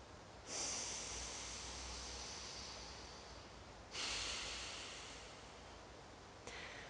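Forceful breath expelled during Uddiyana Bandha Kriya yoga, two long airy exhalations with a third starting at the end, each rushing in abruptly and slowly fading, close but soft, no talking.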